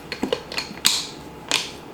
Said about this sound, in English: Then we're going to snap on the lids